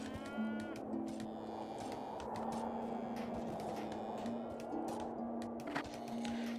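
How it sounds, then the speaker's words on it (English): Oryx in the game Songs of Syx moo repeatedly, long droning calls overlapping one after another at moderate level over a soft game ambience. "melodious sound of oryx mooing at us constantly"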